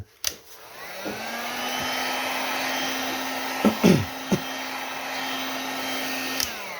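An electric hair clipper whines at a steady pitch after a click switches it on, with a few sharp knocks and rattles partway through and a click near the end.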